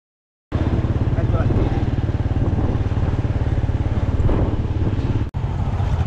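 Scooter engine buzzing steadily at close range while riding through the streets of Bao Loc in rural Vietnam, a continuous pulsing drone with road rumble that holds throughout and briefly cuts out near the end.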